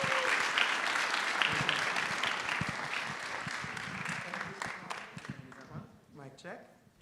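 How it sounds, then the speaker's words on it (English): A school board's Pride Month 2024 launch audience gives a warm round of applause, dense sustained clapping close and loud, gradually thinning out toward the end with a few voices audible. "So I'm going to ask you a nice warm round of applause for Dr. ABC to start off."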